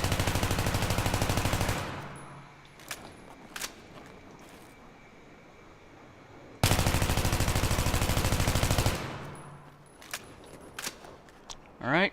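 An M16A4 rifle in Battlefield 3 fires two long sustained automatic bursts emptying the magazine, loud and rapid, separated by a quieter pause with a few scattered clicks and handling knocks.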